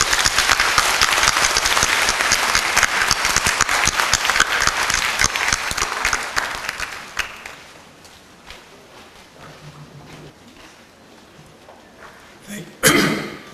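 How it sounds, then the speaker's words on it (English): An audience at a teachers' summer workshop lecture in Jeju breaks into loud, sustained applause that fades after about seven seconds into quiet room noise, with a few coughs and a sharp burst near the end. "welcome Mr. Nation with a big applause"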